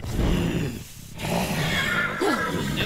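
A horse neighs loudly in a video game boss fight as a summoned steed rises: a drawn-out whinny, close and prominent, followed by a shorter second call near the end.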